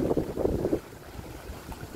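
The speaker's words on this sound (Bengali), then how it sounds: "আমি বাতাসের শব্দ, ঢেউয়ের শব্দ, কেমন যেন একটা মিলেমিশে একাকার লাগছে" Wind buffets a small boat on open water, with a rough low rumble of gusts and waves that eases after a brief stronger surge.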